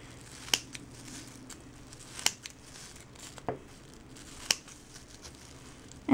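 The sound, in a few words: scissors cutting plastic bags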